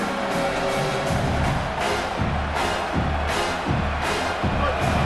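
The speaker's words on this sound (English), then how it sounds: "This crowd, full throat, splitting the eardrums and letting them know it's going to be a long day." Stadium crowd noise in a college football video game, Mississippi State at South Carolina: a dense, loud, continuous roar of cheering fans filling the whole stretch, with rhythmic low thumps pulsing underneath.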